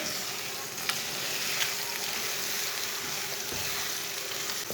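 Finely chopped green chillies sizzle in a hot frying pan while being stirred, a dense continuous frying hiss with occasional scraping clicks, close and alone without speech.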